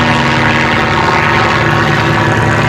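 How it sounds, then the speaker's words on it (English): A highly tuned aerobatic propeller aeroplane engine drones loudly and continuously at an airshow, a steady buzzing roar with no pauses. "experts in highly tuned engines for aerobatic aeroplanes."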